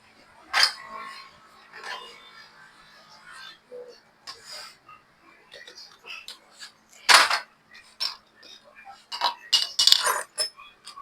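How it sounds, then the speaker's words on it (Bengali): Metal parts clink and tap as the kicker shaft pinion is fitted onto a Bajaj CT 100 motorcycle engine: scattered, close, sharp metallic knocks at irregular intervals, with someone talking in between. "কিকার শেপের পেনিয়ামটা লাগাই দিচ্ছি এখন।"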